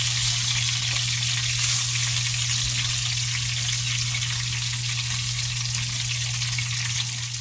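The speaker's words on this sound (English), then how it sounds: "we're going to lather, rinse, and repeat until we get all of our meatballs seared" Meatballs sear in a hot pan for a home pub-food meal, producing a loud, unbroken broadband sizzle heard close up with a steady low hum underneath.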